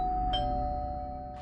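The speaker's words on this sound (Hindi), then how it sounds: "पुलिस ने फ्लैट की घंटी बजाई, फिर दरवाजा खटखटाया" A doorbell at a flat gives a clear two-tone ding-dong chime with a steady ringing tone. The chime sounds alone against a faint background hum, with no voices.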